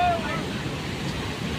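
Chitrakote waterfall in Chhattisgarh roars as a constant, dense rush of falling water, heard from nearby with no pauses.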